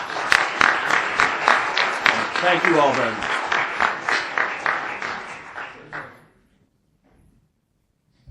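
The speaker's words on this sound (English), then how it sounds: "I'd ask for a round of applause to the families of these people" Audience applause at a Louisiana BESE board meeting: a room of people claps in distinct, close rhythmic bursts for about six seconds, then dies away to near silence as a voice speaks.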